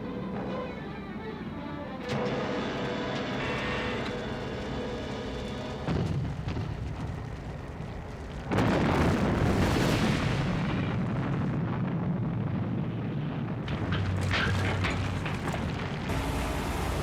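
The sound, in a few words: gunfire and explosions in Thunderbirds episode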